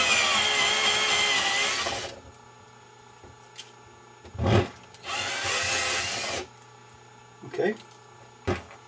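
A step drill bit bores a hole in an airsoft RPG, giving two long, loud, steady whirring bursts separated by pauses filled with short clunks and handling knocks.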